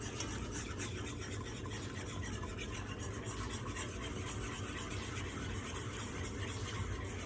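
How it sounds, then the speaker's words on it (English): Gravy for smothered pork chops being whisked in a pan gives a steady, even scraping rasp that runs without a break throughout, with no talking. "Whisk."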